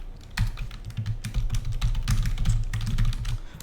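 Rapid, steady clicking of a computer keyboard as code is typed, close and fairly loud, with continuous keystrokes and no speech.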